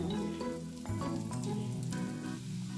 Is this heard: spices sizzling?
yes